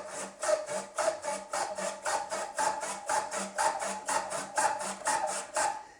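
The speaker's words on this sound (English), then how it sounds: "The next thing to check is sawing straight." A joinery saw cuts through wood in a steady series of about twenty rhythmic push-pull strokes, close and clear with no talking.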